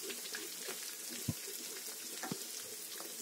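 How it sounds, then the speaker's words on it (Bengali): Chopped garlic and ginger fry quietly in a pan of oil, giving a soft, faint sizzle broken by a few light pops and clicks as the pieces are moved. "আর এর মধ্যে আমি রসুন কুচি 1 চামচ, 1 চামচ আদা কুচি দিয়ে দিলাম। এটাকে আমি ভালো করে ভেজে নেব।"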